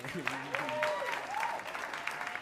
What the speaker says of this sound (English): yeah, we can clap it up